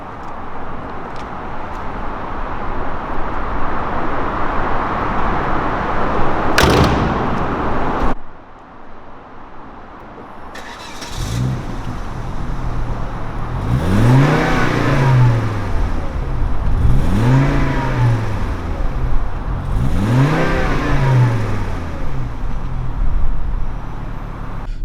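A Volvo V70 T5 wagon engine idles, then revs hard several times in succession, each roar climbing and falling in pitch, loud and close with no speech.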